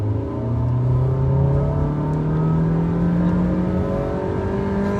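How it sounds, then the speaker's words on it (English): A 2022 Honda City hatchback engine revving hard under full throttle from inside the cabin, a steady rising drone climbing in pitch over five seconds, loud and continuous with no talking. "You can definitely hear the engine roaring"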